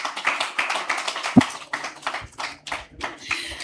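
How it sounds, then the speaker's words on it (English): Sparse applause for conference panelists at a digital technology event, a small audience clapping in uneven bursts with individual hand claps clearly separated, moderately close, and one sharper clap standing out. "Please, a round of applause for the both of them."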